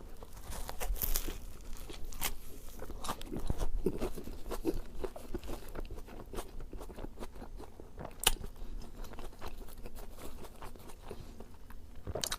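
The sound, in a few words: biting and chewing a provolone Philly cheesesteak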